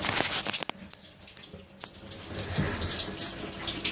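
Steady splashing and trickling water gushing out of the hull of a Carolina Skiff DLV boat, with a constant rush and a few louder sloshes close by.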